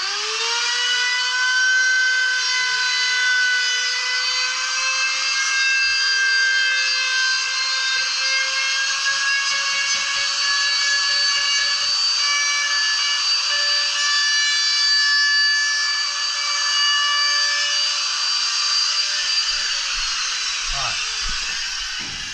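An electric router spins at a steady high pitch, a constant whine with bright stacked harmonics running on without pause while routing the edge of a wooden box, winding down near the end.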